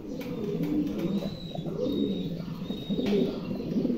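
A Gandolesian pair of Mundi pigeons, the female laying eggs, coo in low throaty rolling phrases that repeat steadily at close range, with faint higher chirps above.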